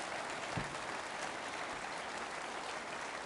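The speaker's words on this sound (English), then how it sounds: "Round of applause, please, for Mr. Sunak taking my questions." Audience applause at a Conservative Party leadership hustings, a faint, distant wash of steady clapping from a crowd that holds at an even level throughout.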